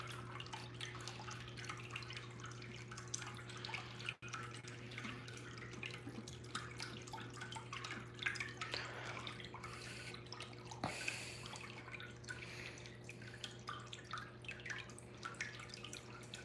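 A toilet tank refills after a flush, a steady low trickle and hiss of running water with faint drips, continuous and fairly quiet throughout.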